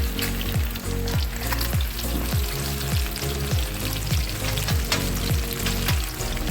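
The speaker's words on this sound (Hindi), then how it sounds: "मछली हमारी फ्राई हो रही है।" Rohu fish frying in a pan of hot oil, a loud, steady, close crackling sizzle with fast bubbling pops that keeps going throughout.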